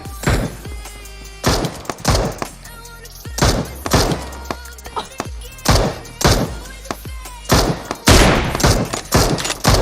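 Repeated bursts of gunfire from a shooting video game, loud sharp shots and short volleys coming every second or so against a busy game soundscape, with no one talking.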